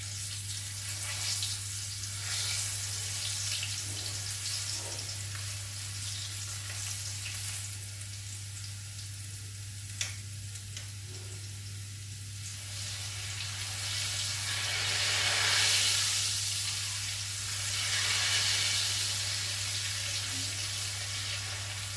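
Garlic fries in a pan while making small gooseberry pickle, giving a continuous bright sizzling hiss that swells and fades, over a low steady hum.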